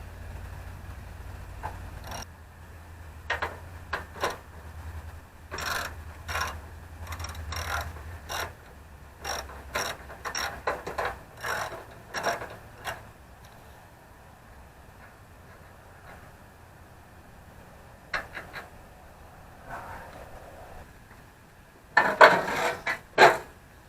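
Someone removes the alternator from the engine of a 1952 Ferguson TO-30 tractor, making uneven bursts of ratcheting clicks and metallic clanks with pauses between them. A louder clatter of tools comes near the end, heard close by and with no speech.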